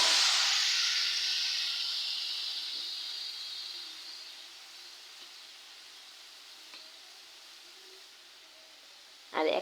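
Water poured onto fried onions in a hot pan sets off a loud burst of hissing sizzle that fades steadily to a quiet simmer, ending with a short clatter.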